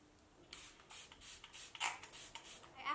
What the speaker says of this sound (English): I'm just gonna spray this with my Smashbox primer water